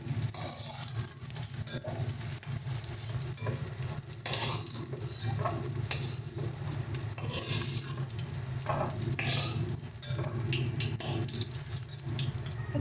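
Cauliflower florets frying in hot oil for a fish curry with cauliflower and lentil dumplings: a steady, dense sizzle with occasional scraping and stirring clatter throughout, close and continuous.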